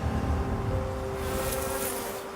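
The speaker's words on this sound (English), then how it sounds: "Jamel Rousseau first heard the growing buzz of a swarm of bees" A swarm of bees on a smallholding in Pietermaritzburg gives off a steady, dense buzz with a sustained drone, constant in level throughout and unbroken by voices.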